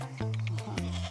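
Landgeit bucks grazing on rough raised-bog heath at De Pelen bleat loudly and close by, with two long wavering calls filling the short stretch.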